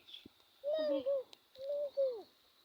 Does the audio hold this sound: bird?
yes